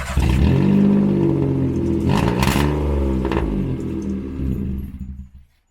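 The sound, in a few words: car with broken exhaust running loudly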